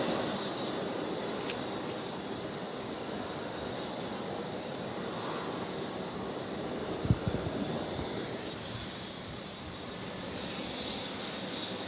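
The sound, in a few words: Qantas jet aircraft departing at Brisbane Airport at night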